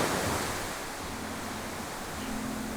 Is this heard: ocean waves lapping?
yes